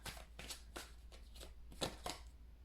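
Tarot cards being shuffled and drawn by hand, a quick series of soft papery riffles and flicks repeating in an uneven rhythm, close and fairly quiet, with no talking.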